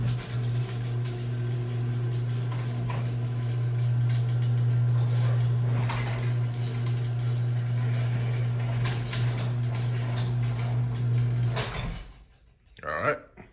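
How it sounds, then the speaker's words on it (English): A garage door opener motor drives the door shut, giving a steady, loud mechanical hum for about twelve seconds before cutting off, followed by a short rattle as the door settles. "that'll get your garage door to shut."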